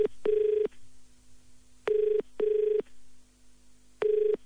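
A telephone rings back after dialing: four loud, clean ring tones in an uneven pattern, a single ring, then two close together and one more, with quiet line hiss between and no voices.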